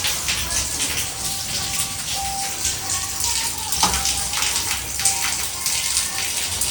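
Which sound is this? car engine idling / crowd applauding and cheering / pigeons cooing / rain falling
rain falling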